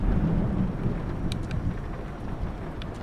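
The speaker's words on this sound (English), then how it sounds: "This is proper rain, isn't it?" Steady rain hiss and deep rumbling thunder in a VR driving game, a continuous wash of storm noise with faint spatter on top.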